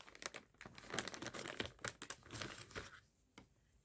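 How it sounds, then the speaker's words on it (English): Close plastic packet of wet wipes crinkling and rustling as a wipe is pulled out, busy crackling bursts for about three seconds before fading to quiet, with no talk. "Sorry about all the crinkling, and I'm probably off camera here, but it's just grabbing out a wet wipe"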